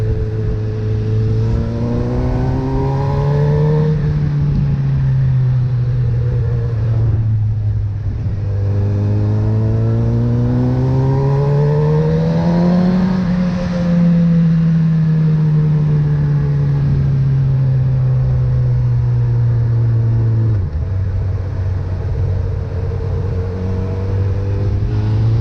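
Honda CB 1000R Neo Sports Café motorcycle with a high-displacement engine and cable clutch, revving while riding: loud, continuous engine note rising and falling through repeated acceleration sweeps and gear changes, alone without talk.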